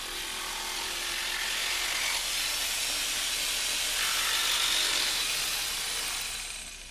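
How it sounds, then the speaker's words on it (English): A jigsaw buzzes steadily down the length of a laminate floor board, a harsh hissing cut that holds for several seconds before easing off at the end. "Then with the jigsaw, cut down the length of the board."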